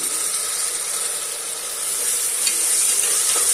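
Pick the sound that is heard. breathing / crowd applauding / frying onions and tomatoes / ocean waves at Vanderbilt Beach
frying onions and tomatoes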